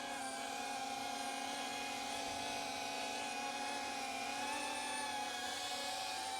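Steady high-pitched whine of a DJI Avata 2 drone's new propellers in flight, constant and fairly faint, with a thin buzzing drone and no voices.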